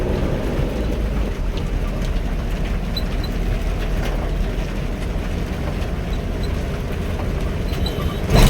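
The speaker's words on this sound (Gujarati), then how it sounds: "જોઈ શકો છો વરસાદ." Heavy rain pours steadily on a road at night, heard from inside a truck crossing the Peth ghat on a Bhavnagar to Chennai run, a dense unbroken roar that holds the whole time with no talk.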